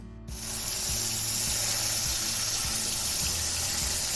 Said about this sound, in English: rinse your rice with water, just plain tap water